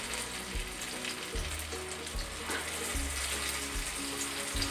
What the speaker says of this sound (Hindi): इसको मैं आपको दिखाती हूँ फ्राई करके।